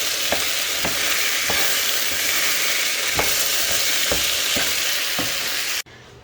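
Vegetables fry in a pan with a loud, constant sizzle, and a utensil stirs through them with regular scraping taps; the hiss drops away abruptly near the end.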